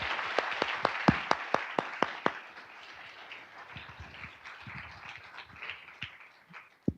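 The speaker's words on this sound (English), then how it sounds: "Let's give another round of applause for our amazing panel." An audience at a university alumni forum on venture capital applauds a panel: several sharp, rhythmic claps ring out nearby over a broader wash of crowd clapping, which thins into scattered claps and faint murmuring.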